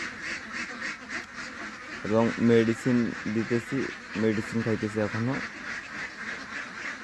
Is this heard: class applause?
no